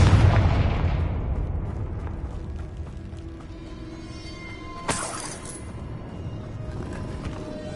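Confringo blast spell in Hogwarts Legacy, a rumbling fiery roar fading off, then a sharp crack with a shattering burst midway, followed by a low lingering rumble.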